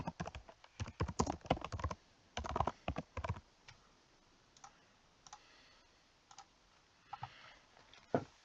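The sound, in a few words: typing on a computer keyboard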